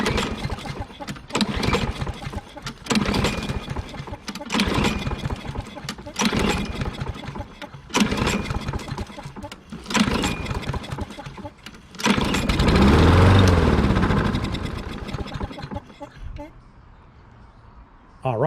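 A replacement lawn mower engine sputters and revs in uneven bursts, pulled several times, catching briefly near the end before dying down.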